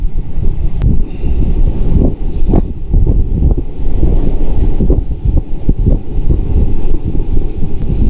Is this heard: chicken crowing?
no